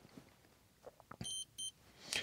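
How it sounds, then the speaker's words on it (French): A multimeter on continuity test beeps against a car fuse from a Renault Clio 3: two short, clear electronic tones near the end, after faint clicks of the probes touching. "Voilà, ça bip, donc ça veut dire qu'on a une continuité inférieure à 2 ohms."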